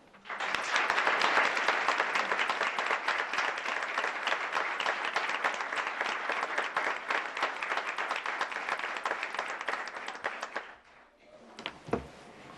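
An audience at a school district board of education meeting breaks into loud, sustained applause for an award recipient, steady clapping lasting about ten seconds before fading into a quieter room with a few scattered sounds.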